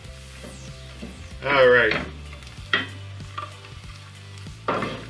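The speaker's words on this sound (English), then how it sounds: "you see that the roux's starting to take just a little bit of color now" A roux of butter and flour sizzles and fries in a pan on a strong gas stove, making a steady hiss with brief louder bursts of stirring and sizzle, and a person speaks briefly.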